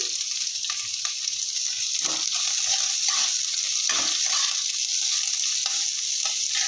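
Cumin seeds and chopped onions sizzling steadily in hot oil in a pan, a continuous loud frying hiss with occasional stirring scrapes, heard with no talking.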